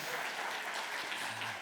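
A conference keynote audience breaks into loud, steady applause that fills the whole hall, a dense wash of clapping with no break.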